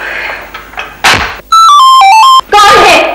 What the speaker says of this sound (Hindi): दरवाजा तो खुला है, फिर घंटी बजा बजा के बिजली क्यों फूंक रहे हो?